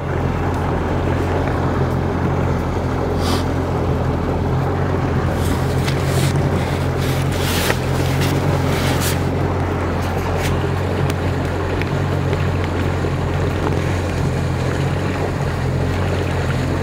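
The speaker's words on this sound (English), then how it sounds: "Tractor's pretty fun to drive." A tractor engine runs steadily while driving on a country property, a constant low rumble with broadband wind and rushing noise across the whole stretch, no speech over it.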